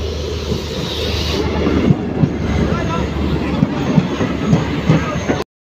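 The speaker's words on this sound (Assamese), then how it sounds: "দেখোন এই ট্ৰেইনখন আহি আছে শিলঘাটৰ পৰা একেবাৰে গুৱাহাটী যাব এই ট্ৰেইনখন" A passenger train running from Silghat to Guwahati rolls into a station with a steady low rumble and rhythmic wheel clatter, close and continuous, with faint background voices.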